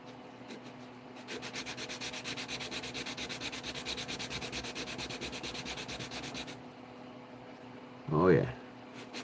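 Sandpaper of 320 grit rubbing back and forth in steady, quick strokes, a close, even scratching rhythm that runs for several seconds, stops, and gives way to a short burst of talk.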